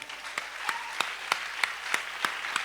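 A church congregation clapping together in a steady rhythmic beat, about two claps per second, loud and close, with no voices standing out.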